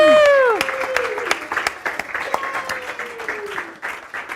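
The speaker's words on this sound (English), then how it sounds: "Let's give them a round of applause." A congregation gives a round of applause at a spiritual gathering, scattered hand claps of varying strength following a fading sung or sustained tone, with voices mixed in.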